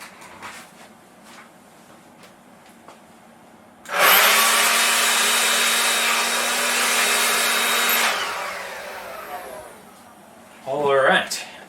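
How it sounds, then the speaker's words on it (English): A leaf blower blasts dust out of a Polaroid SX-70 instant camera, a loud, steady, broadband whoosh lasting about four seconds that starts and cuts off abruptly, with quiet room tone before it and a brief, softer noise afterward. "I have a leaf blower behind me. I'm just going to blow any additional dust out of this thing"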